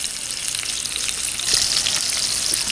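Food browns in a pan on a StoveTec stove, hissing and crackling loudly and steadily with dense sizzle and small pops, close-up, with no talking.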